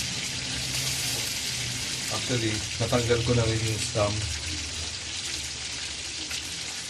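Bulalo beef broth bubbles and hisses steadily in a pot nearby while a person speaks briefly over it.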